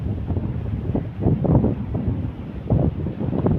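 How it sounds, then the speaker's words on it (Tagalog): Strong habagat monsoon wind blows across the sea off the Philippines, a steady rumbling roar buffeting the microphone in uneven surging gusts, with no voices. "Grabe ang lakas ng hangin."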